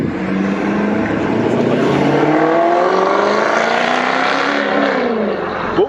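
A small car's engine revs hard close by, its pitch sweeping up and down through several loud, rising pulls that fill the whole moment without a break.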